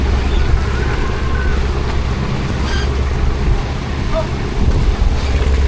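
A boat engine runs hard at sea, a steady low drone mixed with wind buffeting and water wash, continuous and fairly loud throughout with no speech.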